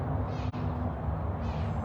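Mouser, a tiny cat at a big cat rescue sanctuary, gives a loud, drawn-out meow that carries almost without a break over about two seconds, close and clear behind wire fencing.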